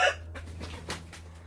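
A chicken gives a few short clucks close by over a low background hum, brief and quiet.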